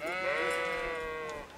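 A single long, wavering sheep bleat from the game Kingdom Come: Deliverance, fairly close and clear, sustained for over a second above faint low background noise.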